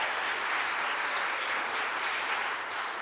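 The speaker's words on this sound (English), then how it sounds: "Please give him a round of applause for doing this." Steady applause from an audience gathered in a church for a town hall meeting, a dense, even wash of clapping sustained throughout without a break.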